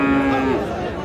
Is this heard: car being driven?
no